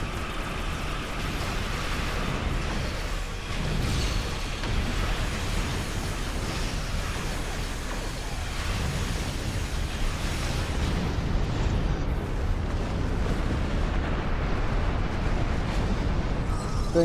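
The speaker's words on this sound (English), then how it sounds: "Things are exploding" Continuous roaring explosions at shipyards in Star Trek Online, a dense, rumbling wash of blasts that stays loud and unbroken throughout.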